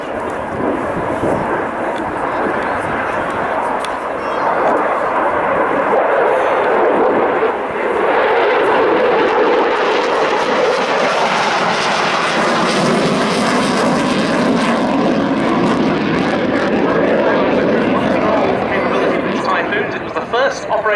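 An RAF Eurofighter Typhoon jet roars through a display flypast at an airshow, a loud, sustained engine rumble rising and swelling over twenty seconds with a commentator's voice faintly mixed in.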